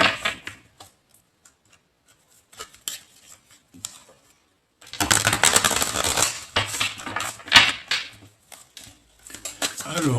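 Tarot cards being shuffled by hand at a table: a few soft scattered card taps at first, then a longer burst of brisk riffling and slapping of the deck, close and fairly loud.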